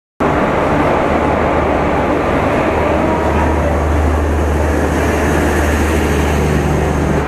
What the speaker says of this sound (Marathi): तुम्ही समोर बघू शकता आपली मांडवी एक्सप्रेस ट्रेन आलेली आहे